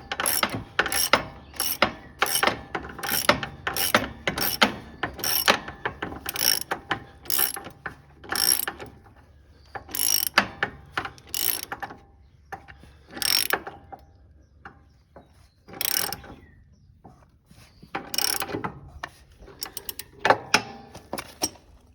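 A ratchet wrench tightens a bolt during an engine swap on a Cub Cadet riding mower, giving bursts of rapid close metallic clicks in a steady rhythm, pausing and resuming several times with no talk.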